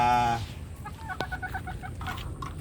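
Gilmore Hatch gamefowl, a game chicken breed, cluck in short, close, irregular calls after a brief loud harmonic call at the start, with low background noise throughout.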